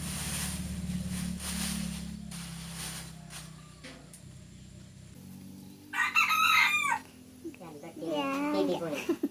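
A rooster crows loudly nearby, with a second crow following, over background chatter and shuffling noises.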